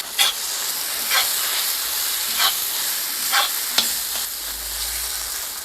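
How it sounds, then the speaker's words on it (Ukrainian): Mushrooms and tomato paste frying in a pan for stewed cabbage, stirred with a few scraping strokes over a steady close sizzle; no voices. "Нам її трішки обсмажити треба. Буквально 30 секунд. А тепер все гарно перемішуємо."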